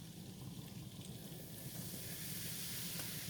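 Flour stirred into melted butter in a hot pan for creamy mac and cheese gives off a steady, close hiss and sizzle that holds evenly throughout, with no talking.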